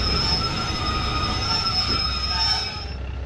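A train in Train Sim World 2 on the West Cornwall route rolls along with a loud rumble and high, sustained wheel squeal. The squeal fades out near the end, leaving a quieter rumble, and no one speaks.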